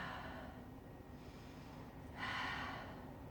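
A yoga student breathes audibly while folded forward with head to the mat in a deep pose, soft steady breaths followed by a louder, sharper exhale near the end, with no talking.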